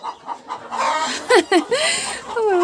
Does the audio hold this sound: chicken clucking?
yes